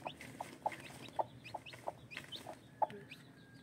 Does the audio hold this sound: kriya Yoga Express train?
no